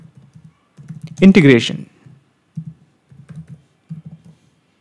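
Quick bursts of key taps on a computer keyboard as a workflow name is typed, close and crisp, broken up by pauses, with a short spoken phrase partway through.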